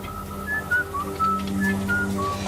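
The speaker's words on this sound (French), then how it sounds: "On a enfin réussi à isoler le fameux sifflement." A thin, high whistle repeats in short wavering notes over a low, steady background hum.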